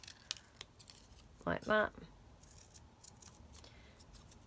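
Scissors snip through pieces from a vintage desk set, two quick close cuts in the middle of a quiet passage, with a few words spoken nearby.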